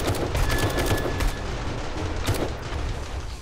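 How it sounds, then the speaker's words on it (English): Rapid automatic gunfire in a 7 Days to Die zombie horde night, a dense, loud, continuous rattle of shots with sharper bursts standing out throughout, no talk. "I just shot the zombie in the you-know-what"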